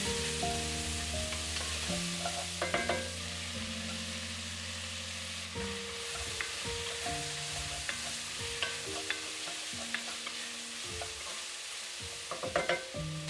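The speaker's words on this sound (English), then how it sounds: "Next, sauté garlic and onions in the same pot." Garlic and onions sautéing in an Overmont Dutch Oven, a steady sizzle under a constant hum, with occasional scrapes and taps of a utensil stirring the pot, close and fairly quiet.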